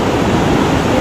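Fast-flowing river water along the road from Abbottabad toward Naran in the Kaghan valley, a steady close broadband rush with no breaks, loud and unbroken throughout.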